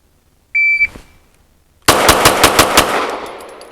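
Pistol fitted with a DPM recoil reduction system firing a rapid string of about six sharp shots, close and loud, preceded by a short electronic beep from a shot timer.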